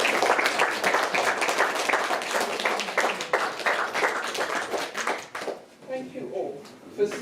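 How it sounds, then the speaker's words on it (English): Dense applause from an audience at a kidney transplant talk, steady clapping for several seconds that thins out toward the end, with some voices mixed in. "Shall we give everybody a big round of applause?"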